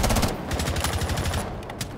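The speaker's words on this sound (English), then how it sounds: "I was trying to shoot" Rapid automatic gunfire in the Rainbow Six Siege video game, a dense burst of quick repeated shots fired close and loud, trailing off toward the end.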